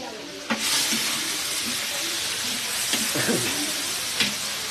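Bagoong alamang, tiny shrimp paste, frying in oil with garlic and onion, giving a steady broad sizzle with brief louder bursts as it is stirred, heard up close with no talk.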